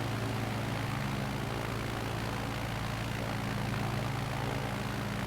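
A propeller plane's engine drones steadily as it climbs in a flight simulator game, set over a Nevada bush route, a continuous loud hum with a low rumble and no talk.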